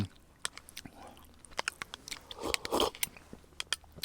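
Pollock roe (mentaiko) from a Japanese supermarket being eaten at a campsite, with close, wet chewing and crunchy bites ticking in an irregular rhythm, plus a few soft murmurs from the eater.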